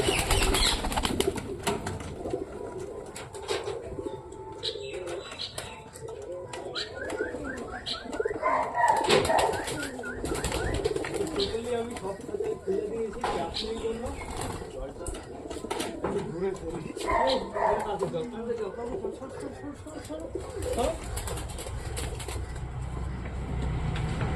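Pigeons at a bustling village market coo in low rolling calls and flap their wings in bursts, close by, while people talk throughout.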